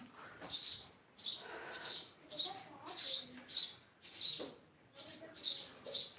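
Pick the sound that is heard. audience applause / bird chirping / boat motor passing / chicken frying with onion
bird chirping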